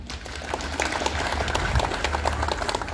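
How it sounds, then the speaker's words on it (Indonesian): Audience applause at an outdoor community service gathering at a campground in East Java, a steady crowd clapping filling the whole stretch, with a faint voice underneath. "Tepuk tangan untuk semuanya."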